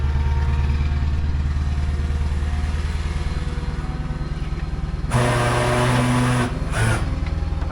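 A delivery van stuck on slippery ground after heavy rain, engine droning steadily at low revs, then briefly rising in a louder surge before dropping back, heard close with no talk.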